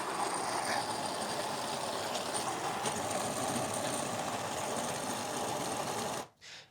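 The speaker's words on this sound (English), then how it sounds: "I'll press the grind button now." A CUSIMAX electric coffee grinder grinding beans for espresso, a steady buzzing mechanical whir with a gritty rattling texture that runs evenly for about six seconds, then cuts off abruptly and briefly flickers back.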